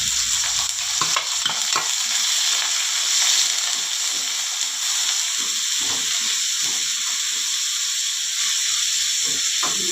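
Coconut pieces frying in a pan for a kanava (squid) roast, a steady sizzling hiss with faint stirring clicks throughout, moderately close and without talk.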